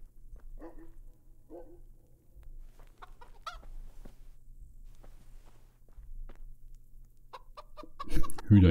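Chickens cluck in a church interior in the video game Kingdom Come: Deliverance, with soft scattered clucks and footsteps over a low hum and a louder burst of flapping and clucking at the end.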